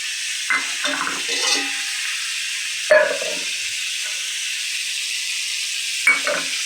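Ridge gourd and potato frying in a pan with spices dissolved in water and ginger paste, a soft continuous sizzle broken by a few brief stirring scrapes and clatters.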